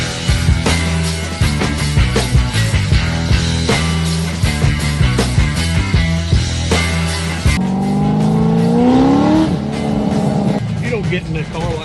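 A car engine revs and drives near Key West, its throaty rising pitch sweeping upward under loud music and talk that nearly cover it.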